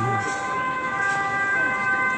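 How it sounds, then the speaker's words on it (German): An emergency vehicle siren wails through a town street in the evening, a steady tonal howl from a moderate distance over quiet street ambience. "Und hier ist auch Tatütata, wie überall."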